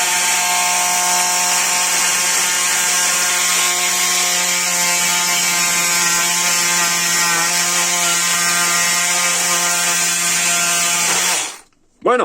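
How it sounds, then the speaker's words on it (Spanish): A small power tool cutting small triangular pieces from a battery holder during an e-bike battery rebuild, a loud, steady whining buzz that runs unbroken for about eleven seconds and then stops abruptly. "aquí me habéis pillado cortando un poquito lo que viene siendo el holder estos pequeños triangulitos"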